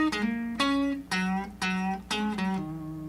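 Electric guitar, a Strat, plays a lick in E in a string of about six plucked notes with a steady, moderate pulse, each decaying briefly before the next, closing on the E root, played solo with no talk.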